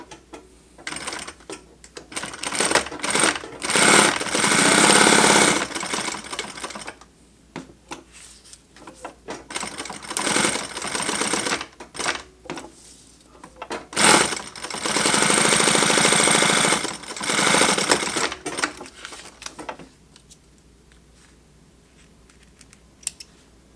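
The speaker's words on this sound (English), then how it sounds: "So I'm just going to sew around the three sides that do not attach to the pack" A sewing machine stitches a fabric pocket onto a pack with a quarter-inch seam allowance, running in several loud bursts of rapid mechanical clatter separated by short pauses, with quieter handling between runs and no talk.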